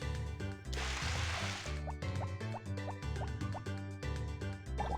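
Water splashing onto crops in the game Harvest Moon: Back to Nature, a few short liquid drips and pours over steady game music, with no talk.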